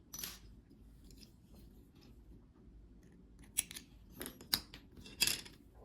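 Scissors snip crochet yarn close by, a few crisp cuts clustered near the end of an otherwise quiet stretch with soft handling noise.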